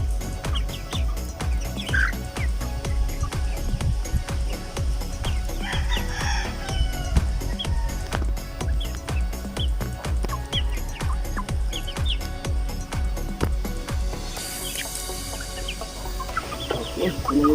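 Free-range native Rhode Island Mahogany chickens on a rural farm cluck busily and crow now and then, a dense, continuous flock chorus with no talk.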